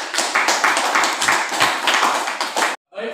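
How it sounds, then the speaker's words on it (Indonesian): A class audience claps for a student group after a catechesis project presentation, a lively burst of close, rhythmic clapping from a small crowd that cuts off abruptly near the end, followed by a brief faint sound. "Tepuk tangan untuk kelompok Pikir The Gang."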